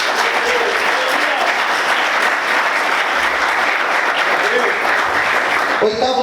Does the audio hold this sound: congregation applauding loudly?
yes